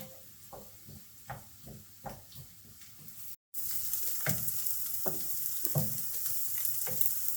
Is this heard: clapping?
no